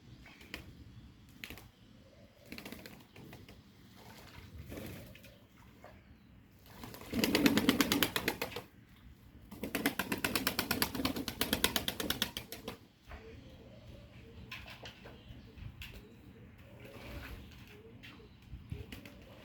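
Homing pigeons and a white Mardin pigeon at a coop: a burst of wing flapping, then a longer flurry of wingbeats, with soft cooing and faint rustling in between.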